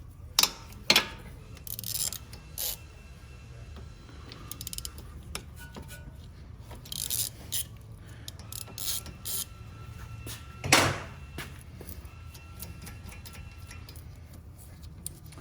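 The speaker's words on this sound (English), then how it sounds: "This bolt right here and that bolt right there, both 14 millimeters. We're gonna take those off now." Ratcheting wrench clicks and metallic mechanism sounds while 14 mm brake caliper bolts are loosened on a 2010-2015 Toyota Prius during wheel bearing work, in short bursts with pauses, close and fairly quiet.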